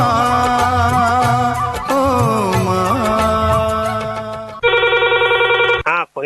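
A telephone rings for a Hindi radio phone-in show of film songs, the electronic ring emerging near the end after music with a voice fades out, loud and repeated in short bursts.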